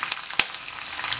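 Curry leaves crackling in hot oil while making Andhra-style tamarind rice (pulihora): a bright, broadband sizzle with two sharp pops early on, close and steady, no talking.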